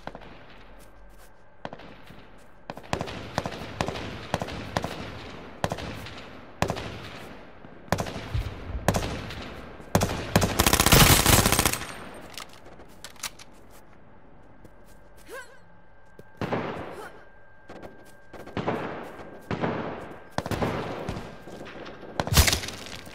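Sniper rifle fire in an online free-for-all shooter match, a long run of sharp, loud cracks spaced irregularly with one dense burst of gunfire midway, set against game ambience and occasional voices.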